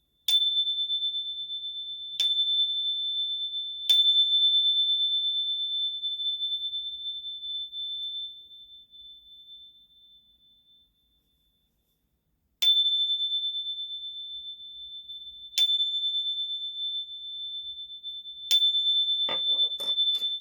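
Sound bowls and chimes rung one at a time, each strike a bright clear tone that rings out and slowly decays, with a long silent gap midway and several overlapping strikes near the end.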